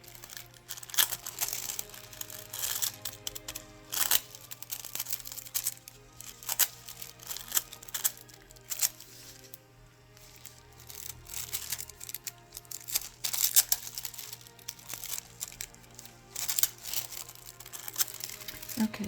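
Crinkly oil-slick nail paper is handled close by during a nail art session, making irregular soft rustles and crackles in short bursts with brief pauses, alone and fairly quiet.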